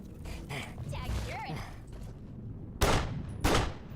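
Gunfire in a mech video game: two sharp broadband blasts near the end, preceded by busier mechanical game noise and creaks, with no talk.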